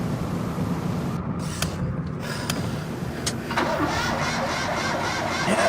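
A car drives along with a steady engine drone and road rumble, close and continuous, with a few clicks and a shift in engine note partway through.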